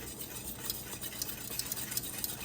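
Sauce for bread pudding is stirred constantly in a stainless steel pan, a soft, even hiss with faint rhythmic scraping and light clicks from the spoon, quiet and alone.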